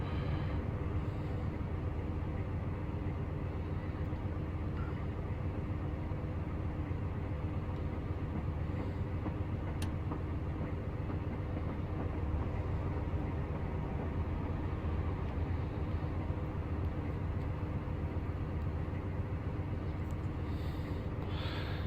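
Class 58 diesel locomotive hauling a train up a 1 in 66 gradient in Train Simulator Classic, a steady loud low engine rumble and rolling rail noise that holds unbroken throughout.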